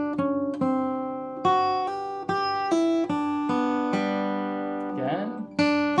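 An acoustic slack key guitar in G Wahine tuning plays a slow single-note melody with chromatic motion, with clear plucked notes ringing out one by one. A brief murmur of voice appears near the end.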